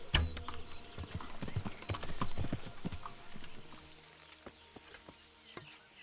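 Horse hooves clip-clopping in the medieval video game Kingdom Come Deliverance, a steady quick rhythm of fairly close hoofbeats that slows and fades toward the end.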